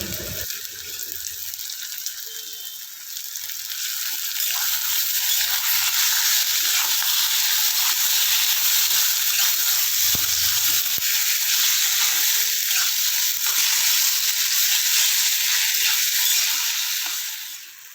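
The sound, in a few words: chicken pieces frying and stirred in white oil in wok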